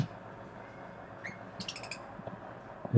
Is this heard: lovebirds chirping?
yes